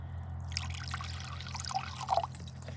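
White distilled vinegar, about 5% acidity, pours and trickles in a short, soft liquid stream, with faint splashes near the end and a low background hum beneath.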